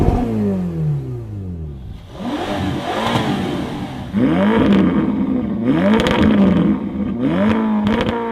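A Ferrari California T's turbocharged engine revs repeatedly, rising and falling in sweeping pitch with several sharp blips toward the end, loud and close with no talking.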